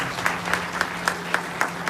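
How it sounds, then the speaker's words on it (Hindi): Audience applause for a speaker at a talk, faint and distant, with a steady wash of clapping and sharper claps standing out at a regular pace. "मैं चाहता हूं एक जोरदार ताली होनी चाहिए"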